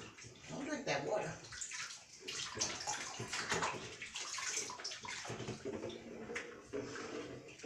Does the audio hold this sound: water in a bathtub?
yes